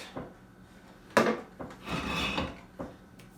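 A spoon scrapes and rubs through thick buffalo chicken dip with melted cream cheese in a bowl. The strokes come in several close, separate bursts with quiet gaps between them and no talking.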